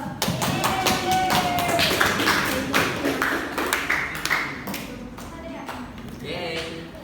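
Classroom applause for a student who has just finished a presentation, a dense stretch of many hands clapping and tapping that runs steadily throughout, with voices mixed in.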